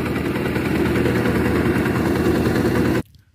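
A fishing boat's engine, which was overheating, runs on a trip off Karachi near Charna Island. It gives a loud, steady, low droning rumble for about three seconds, then cuts off abruptly into near silence. No one speaks.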